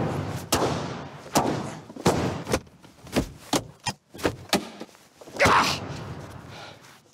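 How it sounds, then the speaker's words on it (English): Series of sharp, solid thuds from a Volkswagen Passat's doors being slammed repeatedly, about ten separate bangs at irregular intervals, close and loud with short decays between each hit. "slam the door on a German-engineered Volkswagen Passat"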